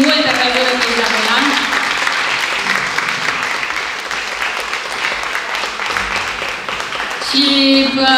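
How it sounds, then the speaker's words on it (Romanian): An audience applauds for a young performer: steady, close clapping fills the stretch. A voice speaks at the beginning and near the end over the applause. "haideți să o aplaudăm, multă căldură cu Isabela!"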